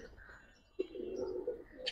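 An old-breed Giribaz pigeon gives a low, soft coo lasting about a second, faint and close, with no talking over it.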